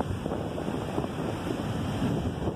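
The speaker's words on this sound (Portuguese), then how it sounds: "Esse é o mar" Sea waves rolling onto the beach at Farol de São Tomé, a continuous loud wash of surf mixed with wind buffeting the microphone, no voices.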